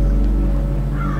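A bird caws in the video game Antichamber over a deep, steady droning rumble, the call sounding harsh and crow-like and close at hand.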